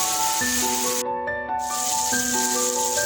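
Food sizzling in a pan as it fries to golden brown for keema karela: a steady, close frying hiss that briefly cuts out, under sustained melodic tones.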